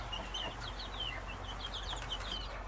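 Week-old Cornish Cross chickens clucking and peeping in short, repeated chirpy calls, faint and somewhat distant over a steady background hiss, with no talking.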